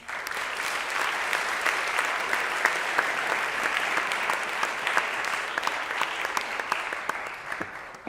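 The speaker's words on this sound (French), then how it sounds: "sous un tonnerre d'applaudissements, nous appelons Raphaël Canon" An audience at the Sorbonne eloquence contest welcomes a speaker with sustained, full-room applause, loud and even from start to finish with scattered sharper claps standing out.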